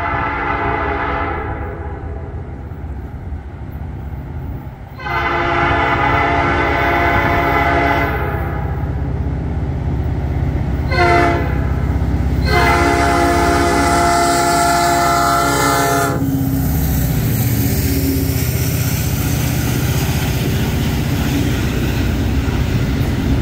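A welded rail freight train rumbles past close by on the Old Fort Loops, its horn blaring in several long blasts over steady rolling wheel noise and clatter.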